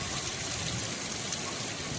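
Heavy monsoon rain pours steadily in a dense, even hiss with no breaks, with no voices over it.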